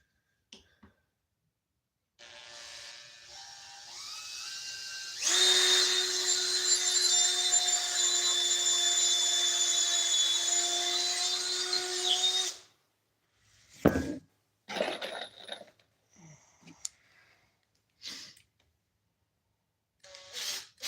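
A power drill drives screws into wood at a woodworking bench in one long, loud, steady whirring run. Lighter clicks and knocks of handling follow, with no talking.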